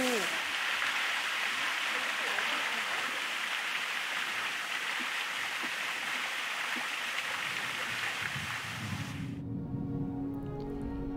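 A mountain waterfall in a valley rushes with a steady, broad hiss of falling water for most of the stretch, close and constant, then cuts off into quieter background sound.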